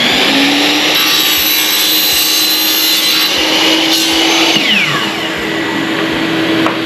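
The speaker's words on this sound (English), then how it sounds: "I think the chop saw works better than a hacksaw, so we'll give this" A chop saw cuts through 1¼-inch PVC pipe, its motor whining loudly and steadily for about seven seconds with a grinding cut in the middle, and no voices.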